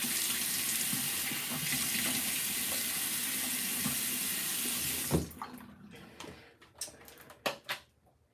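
A bathroom tap runs steadily into a sink while someone wets their face, then the flow stops and a few drips, splashes and handling sounds follow.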